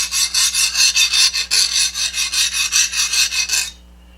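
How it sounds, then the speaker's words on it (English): A metal file skates over hardened leaf spring steel in quick, even back-and-forth rasping strokes, about a dozen in a row, close and crisp, then stops abruptly into silence. "If the file will skate over it,"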